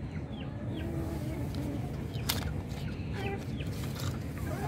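Chickens cluck and chatter continuously close by, with a dense background of poultry noise and occasional sharper calls.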